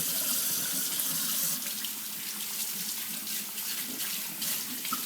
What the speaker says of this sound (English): I'm going to rinse off some of the pepper and the chili powder and things like that